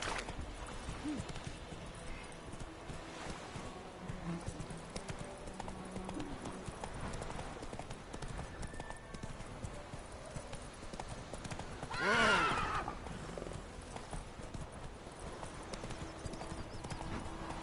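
Continuous galloping hoofbeats of a horse ridden in the video game The Witcher 3: Wild Hunt, with a sharp whinny near the end and faint talk in the background.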